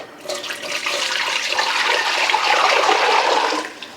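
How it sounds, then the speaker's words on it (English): Hot water pouring steadily into a cooking pot on the stove before ham hocks go in, a continuous close splashing rush for several seconds that stops abruptly near the end. "Put some hot water in this pot."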